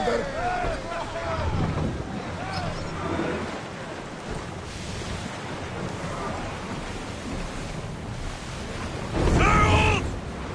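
A sailing ship in the Assassin's Creed Odyssey video game, with rushing wind and water noise and creaking as it gets under way. Voices call out over the sound, and a louder surge comes near the end.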